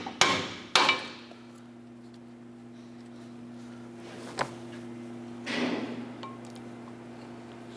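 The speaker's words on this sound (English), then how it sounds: "Just going to use our pry bar and tap the brake pad backing plate" Metal pry bar tapping the brake pad backing plate inside the front caliper bracket of a 2008-2012 Honda Accord, two sharp close knocks at the start, then a faint tap and a duller scrape later over a steady hum.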